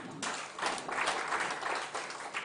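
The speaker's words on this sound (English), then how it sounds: "Clap for yourself." An audience at a university science, technology and innovation symposium applauds the presenters, a soft, somewhat distant wash of clapping that swells briefly and holds steady.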